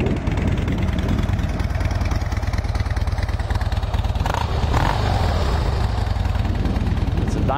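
Fuel-injected Harley-Davidson Super Glide FXD with a rubber-mounted engine idles close by, a steady, even rhythmic thumping that holds throughout with no other prominent sounds.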